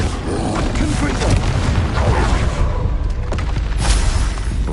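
A Confringo fire spell blasts in the Hogwarts video game, a loud, sustained booming roar with rumbling crackle that swells and surges across the whole span amid other combat effects.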